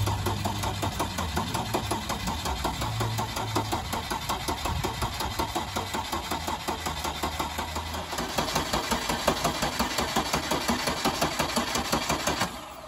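A diesel Citroën C6 engine idles steadily, its rhythmic clatter close and continuous, becoming slightly louder and rougher near the end.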